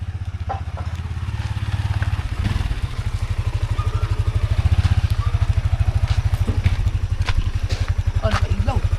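A motorcycle engine runs close by with a steady, rapid low putter throughout, along with occasional clatter and faint voices nearby.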